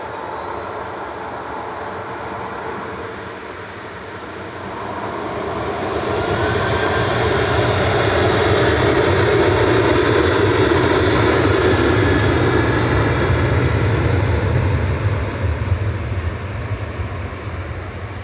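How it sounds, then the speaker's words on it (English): An Aer Lingus airliner arriving at Manchester Airport, its engine roar building steadily from a distant hum to a loud sustained rush that holds and then gradually fades, with no talk. "Next in is the Aer Lingus coming in from Bridgetown"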